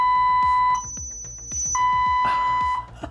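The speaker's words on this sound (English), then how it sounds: "the robot will perform some maneuvers, kind of go out, spin in a circle, and then it'll make a screeching sound at the end." A Scout robot sounds a loud electronic alert of sustained high beeping tones that switch pitch, over a rapid rhythmic clicking pulse from the robot, close and with no speech.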